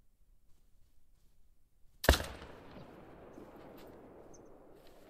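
A single loud .338 rifle shot fired at a turkey in the Call of the Wild hunting game, a sharp crack after two seconds of quiet followed by a lingering rolling echo.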